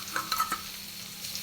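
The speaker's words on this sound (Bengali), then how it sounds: "এবারে পাতাটাকে এর মধ্যে ছেড়ে দেওয়া হবে, ছেড়ে দিয়ে এটা ভাজা ভাজা করা হবে।" Bhetkul leaves frying in oil with nigella and turmeric, a steady close sizzle with a few quick stirring scrapes near the start.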